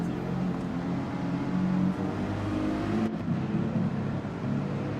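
GR.3 race cars, including a Porsche, run on a dry track in the Gran Turismo 7 video game, with engines droning and revving steadily at close range and no talk over them.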